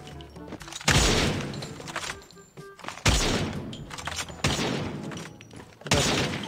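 Several loud, booming rifle shots from a mobile shooter game, four heavy blasts spaced a second or two apart, each trailing off with a short rumbling decay and faint game sounds between.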